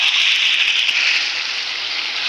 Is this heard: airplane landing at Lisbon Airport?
no